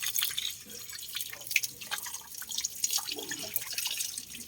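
Water from a fully opened tap splashes and drips during washing, a steady close spatter with scattered droplet hits throughout.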